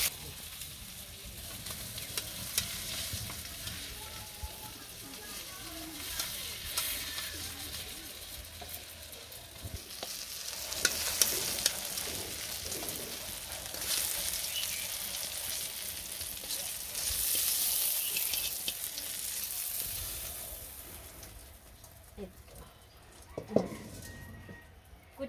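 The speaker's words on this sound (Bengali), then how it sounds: "কই মাছ ভাজা হয়ে গেছে, নামিয়ে নেই" Koi fish frying in a pan give a continuous crackling sizzle that swells and fades over the whole stretch, with occasional soft clinks and no speech.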